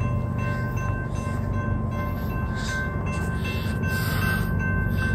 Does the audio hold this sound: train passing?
yes